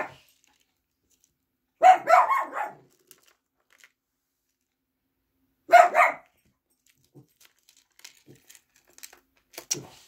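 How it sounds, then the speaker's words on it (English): A dog barks in two short bursts several seconds apart, fairly close, with quiet stretches and faint small rustles between them. "I'm not sure what she's barking at."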